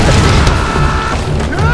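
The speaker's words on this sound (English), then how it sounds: "Dynamite!" Dynamite blast in the Tomb Raider video game, a booming, crashing explosion that fills the short span loudly, with a voice talking over it.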